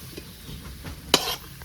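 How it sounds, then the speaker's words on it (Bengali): Fried onion and cumin seeds in a pan, a soft close sizzle with a short sharp scrape or clink of a spatula near the end, no talking. "পেঁয়াজটা ভাজা হয়ে গেছে, জিরেও সঙ্গে ভাজা হয়ে গেছে"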